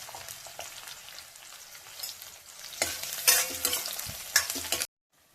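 Onions hit hot oil already holding curry leaves, garlic and green chillies for a Madurai-style fish curry, sizzling steadily with stirring scrapes that grow louder and busier before cutting off abruptly.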